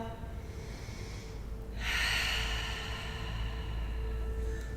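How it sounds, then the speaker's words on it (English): Slow, deep breathing during a pilates cool-down, a long hissing exhale swelling about halfway through over a steady low room hum, close and fairly soft. "Inhale and exhale."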